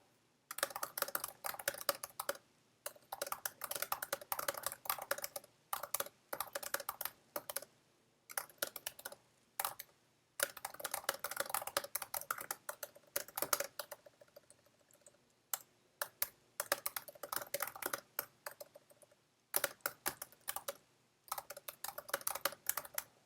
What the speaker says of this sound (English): Sometimes I talk out loud when I'm typing.